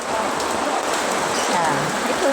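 Steady rain on a road with rainwater rushing along the street, a continuous loud hiss of falling and flowing water filling the whole moment; no voices are evident.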